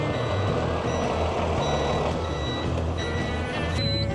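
Street sweeper truck driving with steady reversing beeps repeating at regular intervals over a loud, continuous diesel engine rumble, close by.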